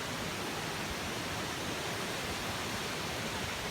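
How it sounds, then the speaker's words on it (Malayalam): Aanachadikuth waterfall in Idukki, heard as a steady, dense roar of falling water that holds a constant level throughout with no other sounds on top. "ആ വെള്ളച്ചാട്ടത്തിൻ്റെ ശബ്ദമൊക്കെ കേൾക്കാം."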